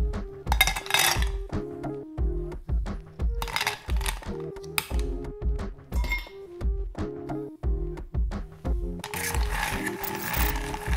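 Ice being dropped into a copper mug that already holds vodka: a long run of sharp clinks and knocking thunks, close and rhythmic, with a brief rattling pour near the end.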